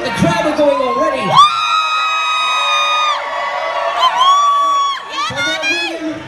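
A cruise ship lip sync battle crowd cheers, whoops and yells loudly and continuously, with high excited shouts rising and falling in waves.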